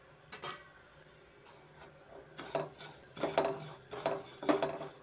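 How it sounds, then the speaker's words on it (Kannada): White sesame seeds are dry-roasted in a pan or kadai, stirred with soft, faint scraping and light clinking that grows a little busier toward the end. "ಒಂದು ಪ್ಯಾನ್ ಅಥವಾ ಒಂದು ಕಡಾಯಿ ಇಟ್ಕೊಂಡು ನಾವು ಎಳ್ಳು ಹುರ್ಕೊಳ್ಳೋಣ"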